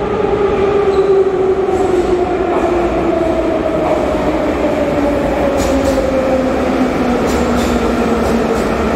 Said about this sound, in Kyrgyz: Биринчи жолу Ташкенттин метросуна кирип баратабыз.